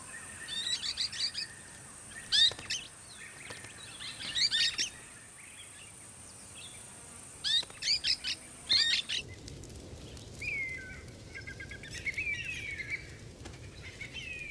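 A father parrot and his five-week-old chicks calling at the nest in dry-season grassland, with repeated short chirps and squawks in clustered bursts, fairly close, over a faint steady background hum.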